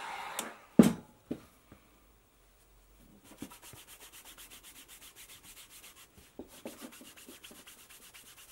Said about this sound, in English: You gotta get a good groove going on your bar of wax to do this.